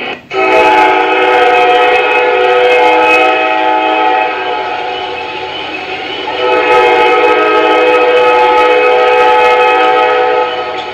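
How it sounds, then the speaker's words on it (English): A loud, sustained train horn blares almost continuously for about ten seconds, dipping briefly midway, with faint rumble of a running train on the rails beneath. "T for train"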